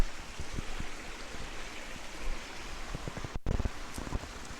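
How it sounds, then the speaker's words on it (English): Outdoors in nature, water in a pond gives a soft, continuous trickling hiss, fairly faint and even throughout, broken by a few light knocks and one brief dropout, with no voices. "We are having a natural sound of water in the pond."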